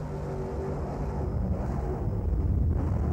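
Huge Mercruiser engines growl on a racing powerboat crossing a rough sea, a loud, continuous low roar with wind rush that swells slightly toward the end.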